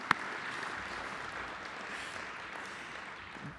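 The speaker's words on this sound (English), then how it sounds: "I think we got to clap for that." Crowd at a college commencement ceremony for the classes of 2020 and 2021 applauds; a soft, diffuse wash of many hands clapping, distant and even throughout.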